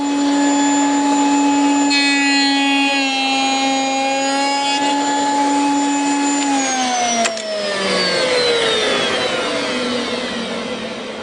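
A router fitted with a slot cutter cuts a 5.9 mm tongue in wood, giving a loud, steady high whine that drops sharply in pitch partway through and then winds down.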